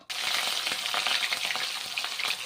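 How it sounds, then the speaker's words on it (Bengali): Rohu fish pieces frying in hot mustard oil in a wok give a loud, steady, dense sizzle that begins abruptly and continues unbroken, close by with no talking. "এখন মাছগুলো ভাজা করছি মাছগুলো এখন ভেজে নিচ্ছি"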